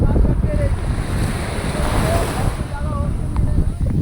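Waves wash and roll steadily with wind buffeting the microphone. Faint voices sound under the surf.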